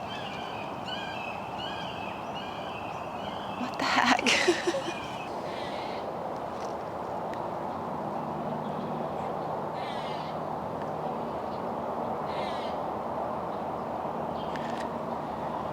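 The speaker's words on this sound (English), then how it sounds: "these crazy birds just start yapping" Outdoor birds calling repeatedly with cawing and hooting notes, moderately distant over steady background noise; a person speaks briefly near the start.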